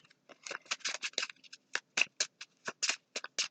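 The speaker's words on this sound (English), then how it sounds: "I'm going to give them another quick shuffle." Tarot cards are shuffled by hand, a quick series of crisp riffling bursts and soft papery slaps in an irregular rhythm, close and quiet with silence between strokes.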